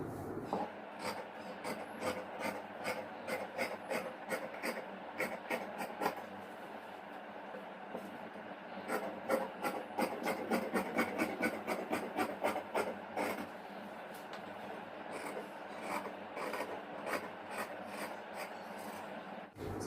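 Scissors cut through fabric for a ten-piece chudidhar top during tailoring: a steady run of close, rhythmic rasping snips with no talking.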